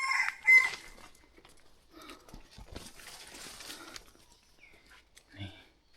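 A chicken crows outdoors, with a rooster-like call near the start and again briefly near the end, fairly faint among quiet voices and light background noise.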